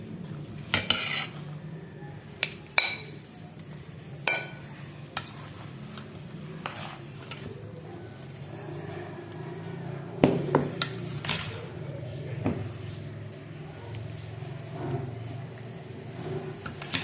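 A spoon scrapes and clinks against a bowl and plate as mixed Russian salad is served out, with several sharp knocks standing out over a low, steady kitchen hum, and no talking.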